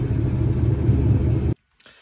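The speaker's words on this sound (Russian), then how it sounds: "Charger, который едет краситься." A Dodge Charger driving past on its way to be painted, a close, steady engine rumble with road noise that cuts off abruptly, followed by near silence and a faint click.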